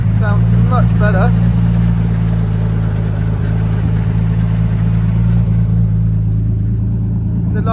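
Nissan Skyline fitted with a hybrid turbo runs in a loud, steady low rumble, close by, with a brief voice over it early on and the engine holding a constant note.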